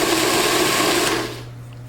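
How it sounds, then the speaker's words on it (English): A food processor pulses defrosted dark cherries for a homemade preserve, a loud steady motor whir that runs for over a second, then cuts out to a faint low hum before a brief restart. "I'm just going to put them in a food processor"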